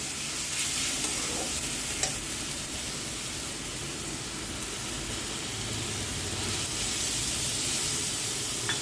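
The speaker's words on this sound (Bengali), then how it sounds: "এর মধ্যে আমি দিয়ে দেবো টমেটো কুচি।" Chopped tomato is added to onions frying in a pan, giving a dense, continuous sizzle and crackle with stirring scrapes, loud and close throughout.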